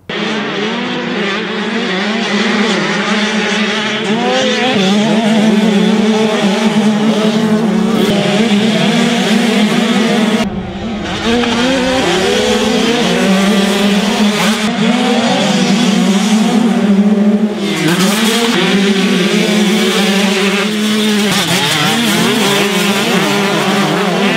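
2021 125cc two-stroke motocross bikes ride past, engines screaming at high revs, loud and continuous, with a brief dip in the middle as one backs off the throttle before winding up again.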